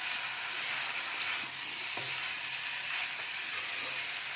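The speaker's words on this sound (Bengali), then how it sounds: "এইভাবে রাইসটাকে এখন মিক্স করে নিচ্ছি।" Prawn and egg fried rice with light soy sauce is stir-fried in a pan, giving a steady, moderately loud sizzle with regular scraping and stirring strokes roughly every half second.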